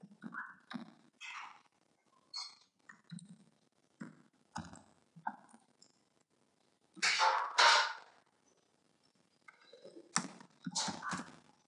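Computer keyboard keys clattering in short irregular bursts while C code is typed, with brief pauses between flurries and a couple of louder, denser runs of keystrokes; no voices.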